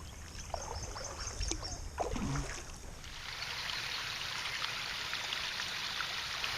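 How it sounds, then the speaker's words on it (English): A small waterfall trickles into a pond in Southern Maryland, a steady close splashing wash of water with no voices, mixed with faint outdoor ambience. "That's about as close as you're going to get to a waterfall here in Southern Maryland."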